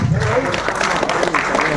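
Loud, dense applause from the audience at an Urdu poetry mushaira, a continuous wall of clapping from many hands that stays level and sustained throughout.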